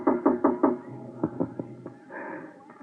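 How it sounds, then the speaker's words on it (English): Knocking on an office door in an old radio drama: four quick sharp raps, then a few softer scattered knocks and shuffling, close and clear with no voices. "There was a knock on my door."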